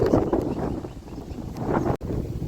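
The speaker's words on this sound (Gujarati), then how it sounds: "એવો ઠંડો પવન આવ્યો અને કોક છાટા પડે" Cold wind gusting across a seashore after a mini storm, a steady broadband roar with rumbling buffets against the microphone, nearly constant and fairly loud with one brief dropout near the end.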